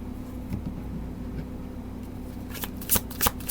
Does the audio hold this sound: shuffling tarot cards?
yes